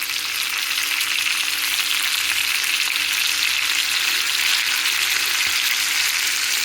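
Radish pieces fry in a pan with tomato, cumin, fenugreek and turmeric, making a loud, steady, close sizzle that holds evenly throughout, with no talking.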